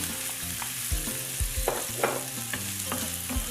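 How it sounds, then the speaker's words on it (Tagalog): Chopped onion dropped into a hot pan for a tomato basil shrimp pasta, sizzling and frying steadily up close while being stirred, with a few scraping strokes of a utensil and no talk. "lagyan na rin natin ang ating onion"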